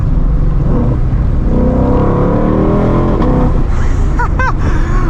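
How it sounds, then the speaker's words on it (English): A loud 2022 Ford Shelby GT500 engine roars steadily close by, its deep exhaust note rising and falling with revs, with a few brief higher tones near the end. "Oh gosh, this car is so loud."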